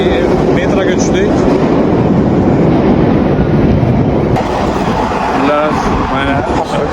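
A metro train rides on loudly with a dense, steady rumble and roar from inside the carriage, and voices talk over it.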